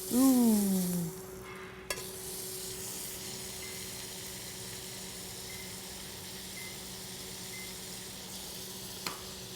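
Butter sizzles in a frying pan with a continuous soft, hissing fry. A brief whistling tone opens it and a couple of light clicks follow.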